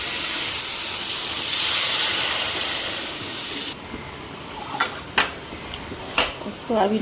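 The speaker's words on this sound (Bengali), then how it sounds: "মশলাও ভাজা হয়ে গেছে এখন ঝোলটা দিয়ে দিচ্ছি" Broth is poured into a cooking pot of fried spices, making a loud steady hiss and sizzle that cuts off abruptly, followed by a few sharp clinks of utensils against the pot.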